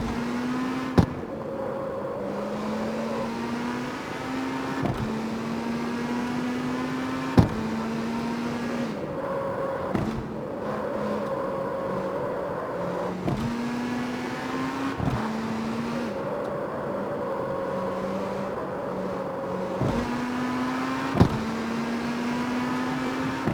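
A steady video game car engine drone climbs in pitch repeatedly, each rise broken by a sharp clunk as the car struggles to change gears, about half a dozen knocks in a regular cycle.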